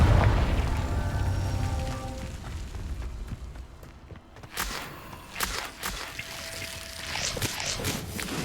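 A Confringo fire spell explodes in the video game Hogwarts Legacy, opening with a heavy boom that rumbles and fades, followed by scattered crackles, thuds and footsteps-like impacts with faint voices in the mix.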